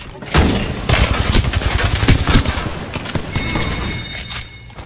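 Rapid bursts of gunfire fill an Apex Legends match, loud, dense volleys of shots with a galloping rhythm and a brief pause early on, running almost continuously to the end.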